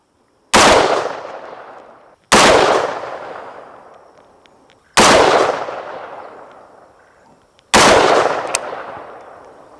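Four loud, sharp gunshots from an AR rifle with a 16-inch barrel, spaced a couple of seconds apart, each with a sharp crack and a long echoing decay into near silence.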